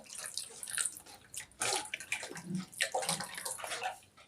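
Filtered ingredients rinsed under room-temperature water in a kitchen, with running, splashing water and sloshing that rises and falls in bursts throughout, close and fairly loud, no voices.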